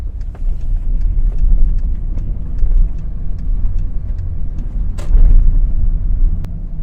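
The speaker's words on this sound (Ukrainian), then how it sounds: "Перша передача. Рушаю, проїжджаю пішоходний перехід повертаю наліво." A car with a manual gearbox pulls away in first gear across a pedestrian crossing and turns left, heard from inside as a steady low engine and road rumble with a few faint clicks, with no talking.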